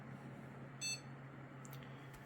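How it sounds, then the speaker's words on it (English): A newly built gaming PC gives a single short electronic beep at startup, faint against a steady low hum, followed by a couple of tiny clicks. "it will beep"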